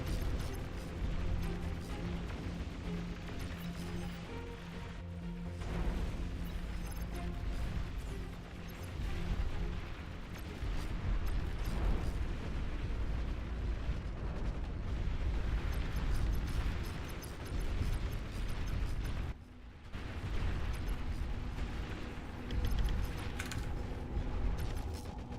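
Torpedo explosions in the real-time strategy game Beyond All Reason, continuous heavy rumbling blasts and mechanical clatter forming a dense, loud battle din that briefly drops out once.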